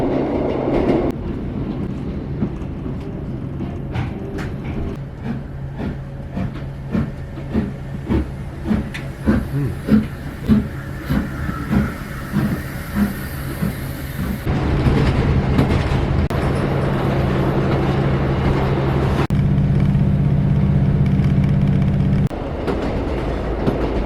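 A Class 156 diesel multiple unit pulls into little Beasdale station over jointed bullhead rail, its wheels clicking steadily over the joints before a heavier, sustained diesel engine drone settles in close by. No one speaks.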